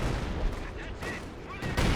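Artillery fire and explosions from the Company of Heroes 2 strategy game, a dense continuous rumble of booms with a louder burst near the end, mixed under game noise.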